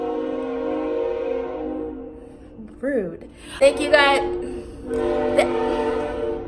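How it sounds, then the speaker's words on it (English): A train horn sounds in long sustained blasts with a brief pitch bend, fairly loud and somewhat distant, with a person speaking briefly in between. "that's the train."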